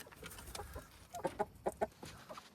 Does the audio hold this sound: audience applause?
no